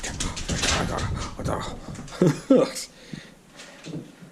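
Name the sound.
puppy whimpering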